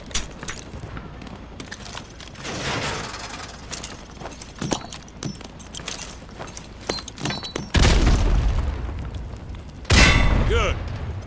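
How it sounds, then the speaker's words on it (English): A frag grenade blast hits hard on a firing range in Call of Duty Modern Warfare 2, and a second loud explosion follows about two seconds later. Scattered gunshots and speech come before the blasts. "Toss the grenade down the range to take out several targets at once."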